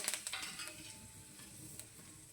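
A pinch of asafoetida and turmeric powder hitting hot oil in a pan, giving a soft, steady sizzle with a few small crackles at the start, fairly quiet and with no voices.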